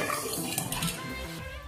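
Half a litre of blended curd poured into a pot, a thick steady pour with faint clinks of the vessel against the pot, close and moderately quiet.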